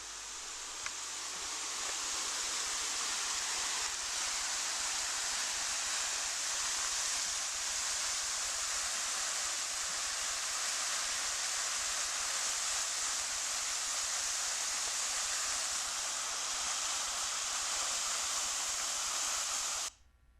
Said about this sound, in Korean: 폭포의 물소리를 여러분에게 선물합니다.